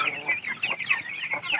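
Broiler chickens cluck busily while feeding, a close, continuous chorus of short overlapping clucks and chirps.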